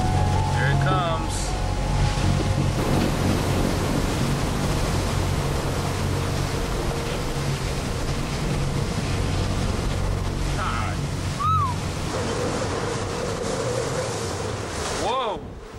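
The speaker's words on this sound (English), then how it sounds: "Hurricane conditions have arrived." Hurricane-force winds and pounding surf at Panama Beach produce a loud, unbroken roar of wind and crashing waves, with brief whistling tones and voices now and then.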